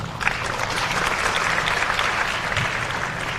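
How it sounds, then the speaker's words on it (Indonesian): An audience of students at a question-and-answer session with Jakarta student council leaders claps together, a dense, steady burst of applause lasting a few seconds, fairly close and fairly loud. "Tepuk tangan dulu."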